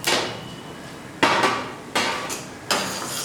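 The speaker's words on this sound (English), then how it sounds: "Once you get the splattering noise, turn off the stove" Pepper, mustard and black sesame seeds roasting in a pan on the stove splatter and crackle in four sharp, close bursts, each fading quickly, with no talk.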